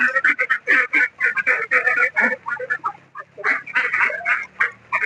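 Farm ducks, some weighing two to two and a half kilos, let out after their midday feed, quacking loudly in a dense, continuous chorus close by, with no talk over it.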